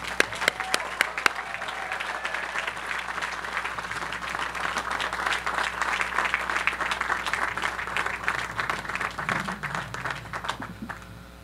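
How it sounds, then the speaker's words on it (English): Crowd at a USC architecture commencement applauding architect Thom Mayne, starting with a few sharp claps and swelling into long, dense, steady applause that tapers off at the end, with a voice briefly audible underneath. "let's give a big round of applause for Thom Mayne"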